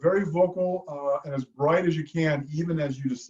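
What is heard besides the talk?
No everyday noises stand out.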